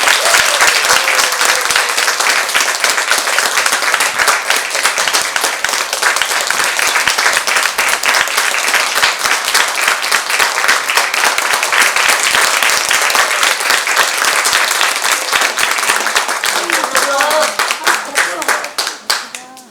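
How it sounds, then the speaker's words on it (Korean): A loud, sustained burst of audience applause as a pansori master singer and drummer are welcomed onto the stage, dense clapping filling the room for nearly twenty seconds before tapering off at the end. "정보건 명창님과 김한샘 명보님을 큰 박수로 무대 위로 모시도록 하겠습니다"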